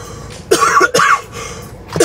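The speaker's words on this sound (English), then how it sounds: "cough intermission." Several close, loud coughs, two in quick succession and a shorter one after a pause, from a person on an afternoon shopping trip, with no talk in between.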